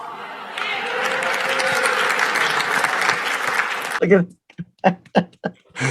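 An audience claps loudly and steadily for about four seconds at a talk about politics and race, then the clapping stops and a voice speaks in short bursts.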